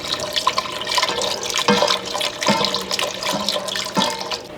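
Chicken broth is poured slowly into a pot of soup, making a continuous splashing, gurgling liquid stream with a few louder surges, close up and with no talking.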